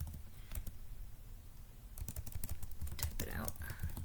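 Someone types on a computer keyboard to enter a holiday date, a quiet patter of key clicks that grows busier in the second half, with faint background noise.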